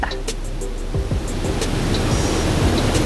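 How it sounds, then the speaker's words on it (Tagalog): Water pours steadily at Puray Falls, a broad constant rushing roar close by, with faint scattered voices and splashes over it. "Dito nagmumula yung talon."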